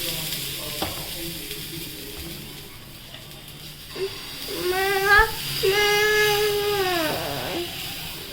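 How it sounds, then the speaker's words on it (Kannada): Steady hissing sizzle of water hitting a hot griddle for wheat flour dosa, swelling louder midway, with faint clinks and a thin squeaky tone over it. "ತೆವಿ ಕಾಯ್ದದ್ರಿ, ಇದಕ್ಕೆ ಒಂದು ಸ್ವಲ್ಪ ನೀರು ಹೊಡೆದು"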